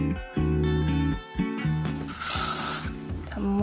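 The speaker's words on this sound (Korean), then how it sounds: "꼬리빗에 스프레이 조금만 뿌려가지고" A short hiss of hair spray misted onto a tail comb while styling a wig, a bright broadband burst in the middle that stands out over background music.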